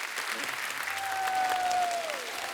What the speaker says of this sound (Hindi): अरविंदर पाजी के लिए जोरदार तालियां हो जाए।